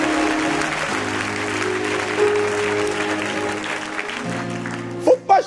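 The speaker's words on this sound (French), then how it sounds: "Premièrement, tout le monde acclame." A congregation claps in a worship service, with sustained applause under held keyboard chords, followed by two short louder bursts at the close.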